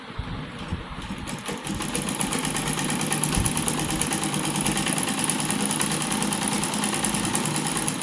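A sewing machine runs steadily, stitching a heavy embroidered neckline on a garment. It gives a continuous close, whirring motor hum with a fast, even rhythmic chatter, with no talk over it.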